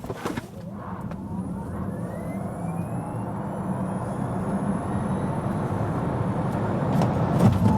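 A Kia EV6 GT electric car accelerating hard on a short track, with a rising whine climbing steadily in pitch over a growing road and wind rumble, heard from inside the cabin without talking.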